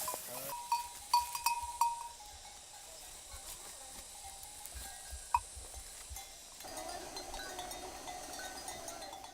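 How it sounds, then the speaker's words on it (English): Bells worn by cows clink and ding in the distance, a few sharp strikes early and more scattered rings later over quiet outdoor ambience. "all the cows are wearing bells, so constantly you hear ding, ding, ding, ding."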